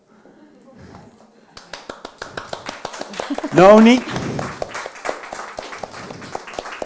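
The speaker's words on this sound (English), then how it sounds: "Just don't stop clapping." Audience clapping at a cookbook-authors talk event, a steady run of individual claps starting partway in, with a voice speaking and a brief cheer over it.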